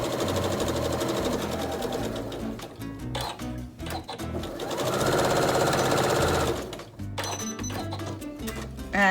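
A sewing machine stitches fabric for a 3D face mask, a steady rapid mechanical whirring and clatter with brief pauses and speed changes throughout.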